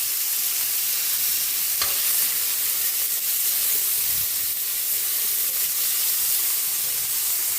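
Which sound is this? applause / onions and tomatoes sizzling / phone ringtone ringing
onions and tomatoes sizzling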